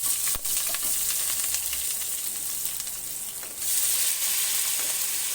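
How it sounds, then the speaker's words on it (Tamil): Chicken sizzles loudly in hot peanut oil with curry leaves and masala, a bright continuous frying hiss with a few stirring knocks, briefly dipping then surging louder near the end; no one speaks. "சிக்கன் போடுறோம்."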